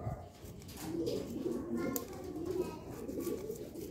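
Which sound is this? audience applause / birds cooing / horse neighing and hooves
birds cooing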